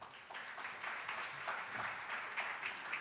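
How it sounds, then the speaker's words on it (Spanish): An audience at a national nephrology and hypertension congress applauds a speaker being welcomed, steady soft clapping from a room of people, fairly distant and even throughout. "un aplauso para el doctor Alarcón"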